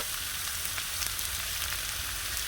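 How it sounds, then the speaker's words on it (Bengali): Elephant foot yam fries in a covered pan, giving off a steady, close hiss of sizzling oil that holds even from start to finish without a break. "ঢাকা দিয়ে দিয়ে ভালো করে আমি কিন্তু ওলটা কষাবো"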